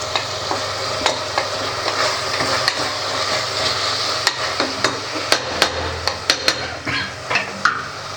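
Coriander leaves fry in oily tomato biryani masala, a dense close sizzle punctuated by sharp metallic clanks of a spoon against the pot, growing busier toward the end.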